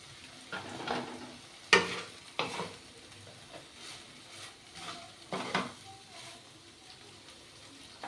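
Spice paste for an ash gourd (chal kumra) curry being stir-fried in a pan, with soft sizzling and several sharp scrapes and clatters of a spatula against the pan, fairly quiet and close, without talk.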